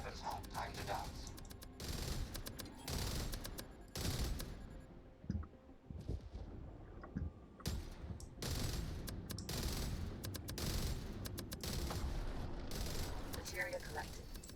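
Gunfire in the video game Jump Space, aimed at enemy gunships: dense bursts of rapid shots come in repeated volleys, broken by short pauses, with clicks between them.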